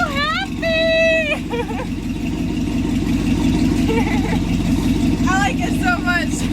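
A Chevy 454 V8 runs with a steady low rumble throughout, rising in a brief rev near the start. Shouting voices and cheering ring out over the engine.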